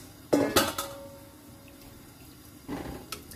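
About 1.5 liters of water poured into a pot of seaweed and mushroom soup, opening with a few sharp clanks of the pot and utensils, then a softer, steady pour close by.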